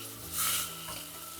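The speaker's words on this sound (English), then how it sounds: "I've added tofu to the onion mix." Firm tofu hisses in a pot of cooked onion, a brief soft sizzle that flares up early with a stir and then settles to a quiet crackle.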